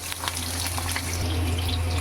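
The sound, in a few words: diced potatoes frying in oil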